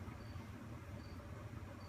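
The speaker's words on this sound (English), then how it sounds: "soothing sounds of the crickets from outside" Faint insect chirping, crickets outdoors, steady and continuous under a low background hum, with thin high tones recurring at intervals.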